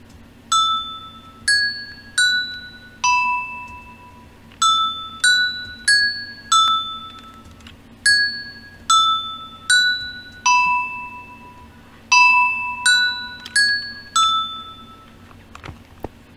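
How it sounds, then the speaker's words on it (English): Chimes from a Minecraft bell tower built of gold block and packed ice note blocks ring out as clear, bright, bell-like tones in spaced phrases of three or four notes, each decaying quickly over a quiet low hum. "The chime sound is made by combining the gold block and packed ice note block sounds."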